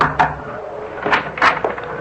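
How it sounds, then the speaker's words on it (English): Knuckles rap on a door in a radio drama, a few close, hollow knocks spread over two seconds, with no speech over them. "I crossed the driveway, rapped on the door."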